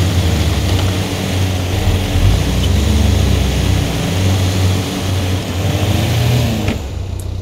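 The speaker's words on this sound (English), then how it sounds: "Turn off the air engine, and then the drone." A drone's propeller engine running steadily in Expeditions: A MudRunner Game, a loud continuous droning hum with a low buzzing tone and faint mechanical clatter, ending with a brief click.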